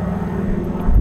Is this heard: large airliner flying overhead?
yes